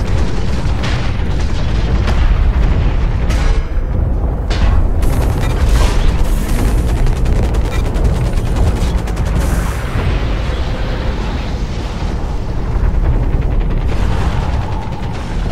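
Mech weapons fire and explosions boom without a break in the shooter game Hawken, a loud, dense barrage of blasts and mechanical clatter that fills the whole stretch.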